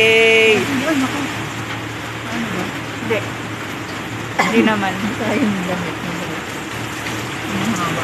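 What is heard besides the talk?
rain falling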